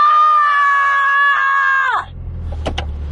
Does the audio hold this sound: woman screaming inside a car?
yes